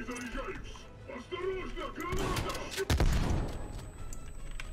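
Close-range shotgun blasts in the shooter game Call of Duty: Black Ops Cold War, a couple of heavy booming shots near the middle amid game noise, with a player talking over it.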